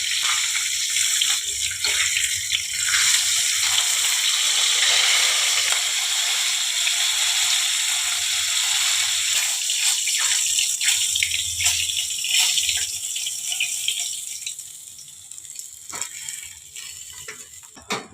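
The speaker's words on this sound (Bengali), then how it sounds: "মাছটাকে একটু কড়া করে ভাজতে হবে" Bhola bhetki fish fries crisp in hot oil, a loud, continuous close sizzle that thins out and quiets toward the end.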